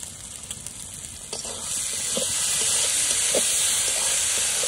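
Spices and meat masala with tomato and turmeric fry in a pan, making a strong, steady sizzling hiss that grows louder partway through, with faint stirring scrapes.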